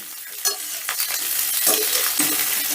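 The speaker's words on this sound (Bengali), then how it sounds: "ক্যাপসিকামটা হালকা ধরো সেকেন্ড খানিকের মতন আমি ভেজে নেব" Capsicum frying briefly in a hot pan with onion while being stirred: a close, steady sizzle broken by scraping strokes of a spatula.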